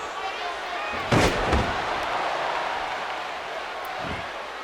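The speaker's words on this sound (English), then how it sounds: "just slamming her down hard" A wrestler is slammed hard onto the ring in a women's wrestling tournament match, giving a sharp, loud impact with a brief rebound thud. It is followed by a fainter second thump over a constant roaring crowd and commentary.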